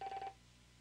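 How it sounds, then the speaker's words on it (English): A telephone rings in a radio studio, one short electronic trill burst lasting under half a second, then fading into quiet room noise. "Is that my phone ringing?"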